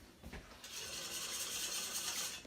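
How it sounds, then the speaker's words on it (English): A metal whisk beating water, egg yolks and vanilla in a bowl for panettone, a faint continuous scraping and rattling whir that starts after a brief knock. "So now to whisk it, the metal whisk."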